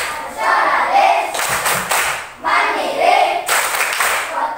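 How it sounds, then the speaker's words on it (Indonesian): A group claps in a rhythmic chant (tepuk PPK), loud synchronized bursts of hand claps arriving in repeating patterns, with short pauses between phrases and no clear speech. "sekarang semuanya tepuk PPK. Ya semuanya tepuk PPK."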